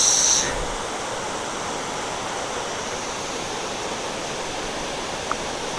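Steady broadband rush of a waterfall in Negros Oriental, constant and fairly close, with no voices; a brief brighter hiss at the very start.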